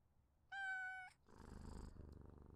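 A cat purring while being petted in the game We Harvest Shadows: a short, bright meow, then a close, steady rumbling purr that pulses rhythmically on its own.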